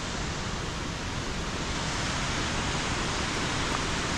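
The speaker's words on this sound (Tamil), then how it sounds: "நம்ம வாட்டர் ஃபால்ஸ் வந்தாச்சுங்க" Jogini waterfall near Manali pours as a steady, dense roar of falling water, close and unbroken, with no voices.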